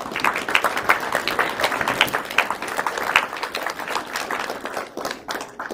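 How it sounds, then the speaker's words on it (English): Audience applause at a Star City BMX banquet, a steady round of clapping from a crowd, loud and close, with scattered individual claps standing out and holding across the whole stretch before tapering slightly. "So a round of applause for them, please."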